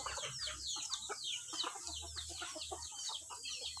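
A crowd of native chickens clucks and chatters inside their coop on a farm, many overlapping calls close by in a busy, continuous stream.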